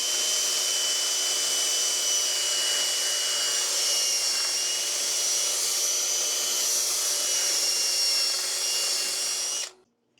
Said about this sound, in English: There it is, sanded back to 320